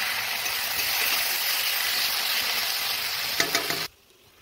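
Onions, tomatoes, cumin seeds and bay leaves with salt and turmeric frying in a pan for soybean curry, a steady close sizzle with a few clinks near the end before it cuts to near silence.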